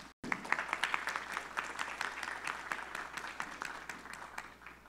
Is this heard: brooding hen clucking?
no